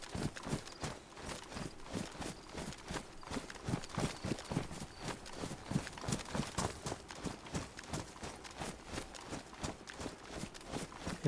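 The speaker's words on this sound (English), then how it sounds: "I feel like I keep hearing footsteps" Footsteps in the video game DayZ Livonia, a steady, quick rhythm of thudding steps repeating for over ten seconds, close and moderately quiet with no talking.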